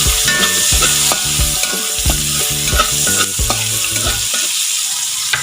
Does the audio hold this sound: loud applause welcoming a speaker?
no